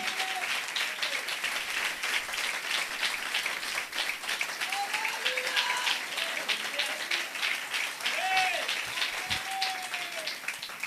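Congregation at a church service applauding loudly, dense sustained clapping throughout with excited shouts and cheers rising above it.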